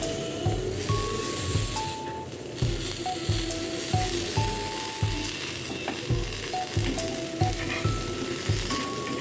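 Paneer coated in masala paste sizzles steadily on a hot tawa, with regular scraping knocks from turning the pieces, close and continuous with no talking.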